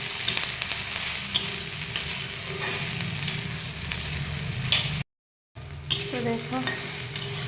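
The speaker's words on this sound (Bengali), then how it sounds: "তো এবার দিয়ে দেবো সয়াবিন আর আলুগুলি। এবার নাড়াচাড়া করে নেব।" Soybean chunks and potatoes fry and sizzle in spices as a spoon stirs them steadily, with a short break near the end and a brief spoken remark afterwards.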